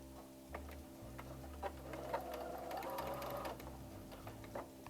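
A home sewing machine makes a few slow stitches on a toddler apron: quiet, soft rhythmic ticking and whirring close by, with no talking.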